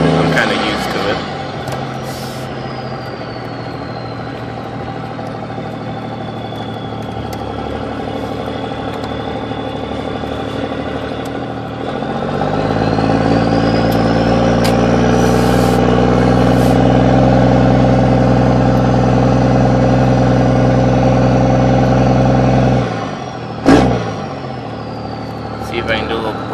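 Cummins diesel truck with a 4 inch exhaust stack, steady rumble from inside the cab that swells into a louder, harder pull midway, then drops off near the end.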